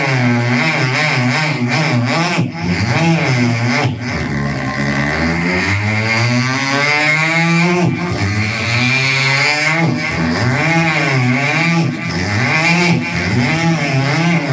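A voice mimics a motorcycle circling a circus well-of-death, with continuous rising and falling engine revs and whining acceleration sweeps that stay loud and close throughout.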